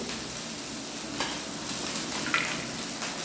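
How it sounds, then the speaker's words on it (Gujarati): Lemon rice being stirred in a pan, a continuous soft scraping and faint sizzle with a few louder scrapes, close and steady with no talking. "આને બરાબર આપણે હલાવી લઈશું"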